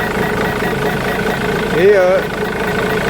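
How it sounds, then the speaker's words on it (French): A Ford Mondeo engine idles steadily after a thermostat change, a constant close hum with someone speaking briefly over it. "j'ai remis le moteur en route."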